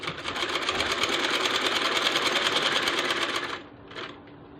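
Sewing machine stitching ribbon onto a dupatta, a fast steady mechanical whirr for about three and a half seconds, then a short brief burst before stopping.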